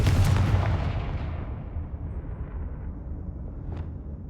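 A Confringo blasting spell explodes in the Hogwarts Legacy video game as a loud, booming burst that rolls into a long rumbling decay, with a faint crackle near the end.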